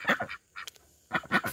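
Ducks foraging in a vegetable garden among squash plants let out a few close, honking quacks in two short clusters, with a brief quiet gap between them.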